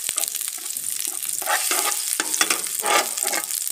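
Butter and a little oil melting in a non-stick frying pan, a close, continuous crackling sizzle with small irregular pops and bursts, heard alone without talk.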